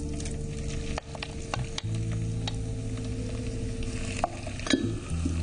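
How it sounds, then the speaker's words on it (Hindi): Grated bottle gourd frying in melted ghee, a soft sizzle under repeated spoon scrapes and knocks against the pan, close and fairly quiet. "अब इसमें हम डालते हैं ये कद्दूकस करी हुई लौकी।"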